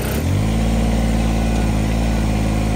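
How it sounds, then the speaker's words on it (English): A Kubota BX2763A compact tractor engine catches after a brief crank and settles into a steady, loud, close idle with an even low rumble. "I'm going to fire it up here"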